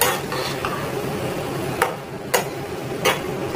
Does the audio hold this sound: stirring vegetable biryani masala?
yes